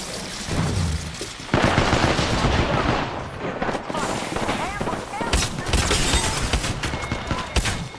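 Dense automatic gunfire in an Apex Legends match, rapid bursts of shots overlapping into a continuous loud barrage with voices calling out beneath it.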